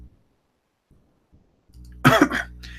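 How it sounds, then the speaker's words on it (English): A single loud, harsh cough bursts out after a stretch of near silence with a few faint soft sounds, followed by a short breathy tail. "I'm coughing, I don't know why."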